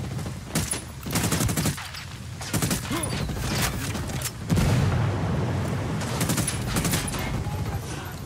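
A frag grenade blast in a tactical shooter, heard amid a dense, continuous barrage of loud gunfire and booming impacts, with shouting voices and a strong bass rumble throughout.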